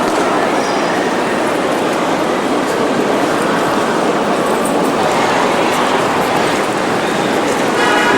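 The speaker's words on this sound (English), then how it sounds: "All the trains are straight in front of me." Inside a busy railway station in Zurich, electric trains make a steady broadband rumble and hiss that continues without a break, with a faint crowd murmur in the background.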